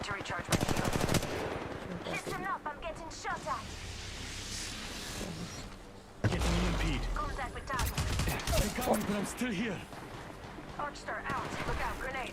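Rapid automatic gunfire and single shots from the Apex Legends Mobile game ring out in bursts over game sound effects, with a heavy impact near the middle, while players talk over the action.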